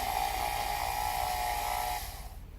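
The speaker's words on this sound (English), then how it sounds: "that's the new Dremel tool that I got" A Chicago Electric rotary tool, a Dremel-style handheld, whines at steady high speed for about two seconds close by, then cuts out and spins down.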